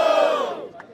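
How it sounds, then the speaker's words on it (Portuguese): Rap battle crowd at Batalha do Coliseu roaring and cheering loudly for the MC Falcão, a dense wall of shouting that swells at once and then tapers off over about a second. "Quem achou melhor as rimas de Falcão passar barulho?"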